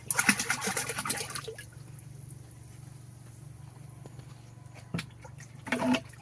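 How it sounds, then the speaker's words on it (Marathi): Cow-dung water splashes and gushes out of a bucket in a loud burst, then settles into a faint, steady trickle, with a brief final splash near the end. "शेणाचं पाणी जे आपण बकेटीचं आहे ते टाकून दिलेलं आहे"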